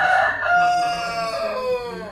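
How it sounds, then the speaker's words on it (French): Roosters crowing in the morning in Martinique, one loud, near cock-a-doodle-doo that stretches across about two seconds and falls in pitch, with faint background clucking and no talk. "Ça fait du bien d'entendre le matin des coqs qui chantent."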